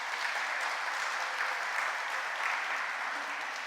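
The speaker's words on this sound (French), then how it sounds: "si on pouvait les applaudir pour" Congregation applauding the worship team at a church service, a steady dense wash of clapping that holds evenly throughout with no voices above it.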